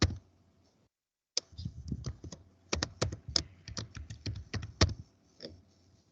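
A BitLocker password being entered on a computer keyboard: after a brief silence, a close, irregular run of crisp key clicks at a moderate pace, with no voices.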